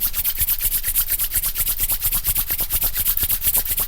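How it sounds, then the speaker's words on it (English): Palms rub briskly together to build warmth, a close, loud rhythmic swishing of skin on skin with quick even strokes repeating without pause and no talking. "Rubbing your palms together, generating some heat in the body."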